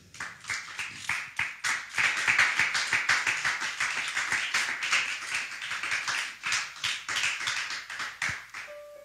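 A worshipping congregation claps in praise at a French-speaking evangelical service: a loud, close, regular beat of many hands in unison that swells and holds for several seconds, then stops abruptly.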